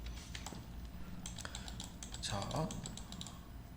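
Computer keyboard keys are pressed in quick bursts of clicks while modelling in Maya, close and moderately quiet, with someone speaking Korean softly over part of the typing.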